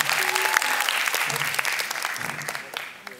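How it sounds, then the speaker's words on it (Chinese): Audience applause at a live concert, dense clapping near and loud at first and thinning slightly toward the end, with a few cheers and a brief voice mixed in. "大家再给他一点掌声好不好？"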